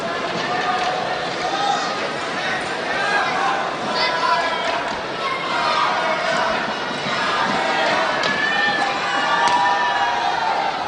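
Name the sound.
collective gasp from the badminton match crowd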